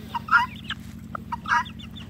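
Aseel rooster and hens on a farm clucking in short bursts, a few clear calls standing out over a steady low hum.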